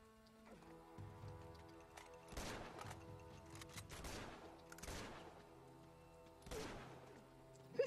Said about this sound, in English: Who's shooting at me and where from?